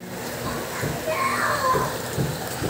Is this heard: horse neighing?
no